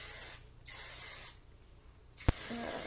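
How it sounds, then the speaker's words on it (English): Two bursts of heat protectant hair spray hiss, close up, separated by short pauses, followed by a small click and faint tonal sounds. "I'm just going to spray."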